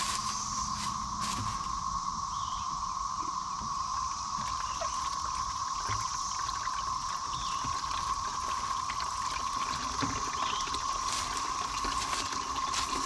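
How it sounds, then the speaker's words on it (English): Rainwater collected off a chicken house gutter runs from a barrel into a bucket, a steady, soft trickling wash that continues unbroken for the whole stretch at close range, with no talk. "We'll let that bucket fill for just a little bit"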